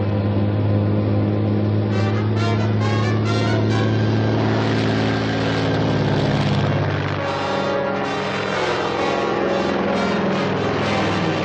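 A chartered propeller airplane drones loudly and steadily overhead, with a strong pulsing engine hum and a throbbing beat throughout, and no voices.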